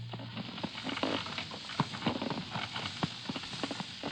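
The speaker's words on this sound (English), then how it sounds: "The driver of a donkey cart has given him a lift" Hooves of a donkey pulling a cart clip-clop in a radio drama sound effect, with a steady walking rhythm of knocks over a rumbling background, close and prominent, with no talk.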